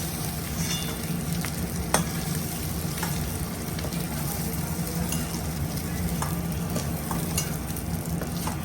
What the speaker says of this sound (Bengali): চিংড়ি মাছটা লাল লাল করে ভেজে নিচ্ছি